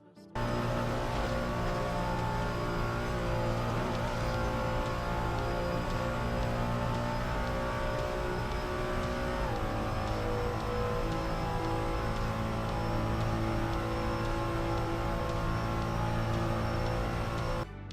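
Ferrari 296 GT3 race car engine in Assetto Corsa at Spa-Francorchamps, a steady loud drone held at high revs through the turns toward Camel Straight, with a brief shift in pitch midway and no talk.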